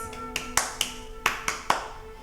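Hands clap during a gentle hatha yoga class, about seven sharp, fairly close claps in an uneven rhythm over a quiet background hum.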